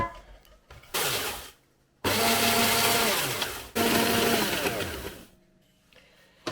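An electric chopper grinds vegetables with salt in three loud whirring bursts of a few seconds each, the motor pitch dropping as it runs, with quiet pauses between.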